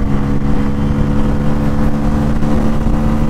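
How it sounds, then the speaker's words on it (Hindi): A Bajaj Pulsar N160 motorcycle engine runs loud and close, holding a steady mid-pitched hum with a rumbling tone under acceleration, with no voices over it. "एक्सीलेशन देने के बाद एक बार साउंड सुनाओ"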